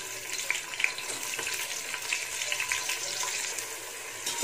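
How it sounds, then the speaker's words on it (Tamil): Chopped onions sautéing in oil with whole fennel, cinnamon, cloves and cardamom for a chicken biryani, a steady close sizzle with faint stirring clicks and no talk. "வெட்டி வச்ச வெங்காயம் சேர்த்துக்கலாம்."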